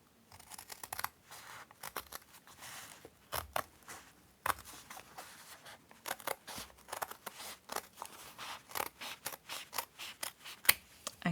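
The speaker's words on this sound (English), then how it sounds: "I'm just removing 2 inches from that side, and I'm going to cut that off." Scissors cut paper for a handmade junk journal, making a quick run of crisp, close snips and slicing sounds. The cutting is fairly quiet and steady, with soft paper handling between cuts and no talking.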